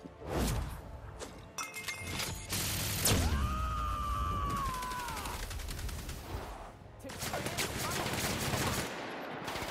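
Gunfire in The Outer Worlds, bursts of shots crackling through a busy fight mixed with game effects and a rising whistling tone, fairly loud throughout with some talk underneath.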